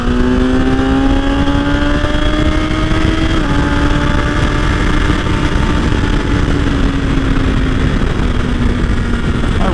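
A car with a freshly flashed ECU accelerating hard in fourth gear on a hot 90°F January day, a loud continuous engine roar with pitch climbing steadily, a brief dip partway through, then rising again.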